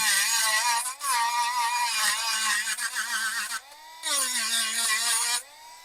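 A Worx WX106 8V cordless rotary tool grinds the end of a battery, a loud, close, high-pitched whine in two long bursts with a brief dip between them and a quieter pause near the end, with no voice.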